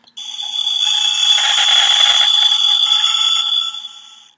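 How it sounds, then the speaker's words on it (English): A circuit-bent toy's sound effect meant to be an aircraft taking off or zooming by comes out as a heavily distorted, steady electronic whine, lasting about four seconds and fading out at the end. "Terribly distorted, but that's an aircraft taking off or something, or zooming by."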